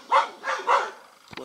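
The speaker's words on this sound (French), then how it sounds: "ces grosses flippettes de chiens là, qui aboient sur les vaches" Dogs barking at cows outdoors, three quick, fairly close barks in a row followed by a faint brief sound.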